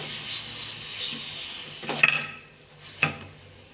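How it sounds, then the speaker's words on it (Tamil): A lid is set onto a pot of cooking chicken biryani: soft rubbing and scraping, then two distinct metallic clanks a second apart, close and moderately loud, with no talking. "இப்போ நான் வந்து லிட் போட்டு"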